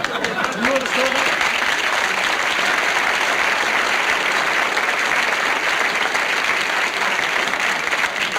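Studio audience applause during a live television comedy broadcast, a dense, steady wash of clapping that fills the whole stretch at full loudness, with a brief voice faintly audible near the start.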